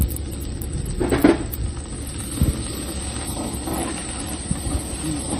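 Onions and mustard seeds sizzle in hot oil for a Telugu-style pulusu curry. A steady loud hiss and crackle fills the whole stretch, with occasional stirring clunks close by.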